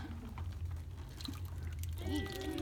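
Liquid being poured into a long tube, heard as a faint, soft trickle and gurgle that grows slightly stronger toward the end, with quiet background noise.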